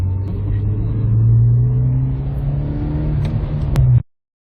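A Renault 5 GT Turbo drives over cobblestones, heard up close as a loud steady engine drone and low rumble that swells briefly and then cuts off abruptly.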